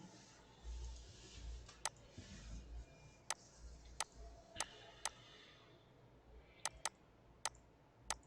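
Sharp mouse clicks, about ten of them, come in irregular singles and quick pairs over a low background hum.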